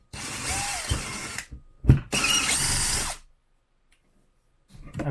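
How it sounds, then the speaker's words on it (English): A power drill bores through an RV countertop into the plywood beneath, two loud sustained whining bursts broken by a short pause and a thump, then near silence and a faint stir at the end. "I've drilled through the countertop, and now there's plywood underneath."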